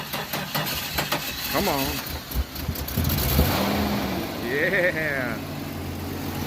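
1989 Jeep Comanche short bed truck engine running and pulling away under its own power, a moderate engine rumble steady through the clip while people talk over it.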